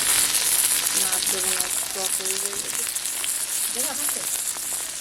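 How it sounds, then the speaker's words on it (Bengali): Cumin, chopped onion and tomato frying in a pan with dried chilli and bay leaf, a steady loud sizzle with a few stirring scrapes, and a voice briefly speaking over it. "জিরা দিয়ে দিলাম, পেঁয়াজ কুচি দিয়ে দিলাম, টমেটো কুচি দিয়ে দিলাম।"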